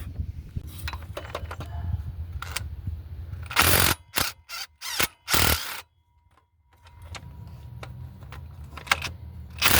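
Bolts are removed from the tensioner on a 2003 Cadillac Escalade 6.0 during water pump replacement: quick ratchet clicks and metallic rattles, a burst of sharp loud clacks midway, then a quiet gap before the clicking resumes.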